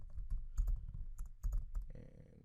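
Fingers type code on a computer keyboard in quick, close, irregular clicks, with short pauses between bursts of keystrokes.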